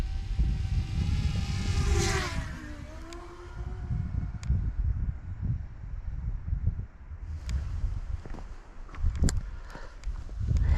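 Drone flying overhead while performing a trick, a faint whine sweeping in pitch against wind buffeting the microphone, with scattered clicks and bumps nearby.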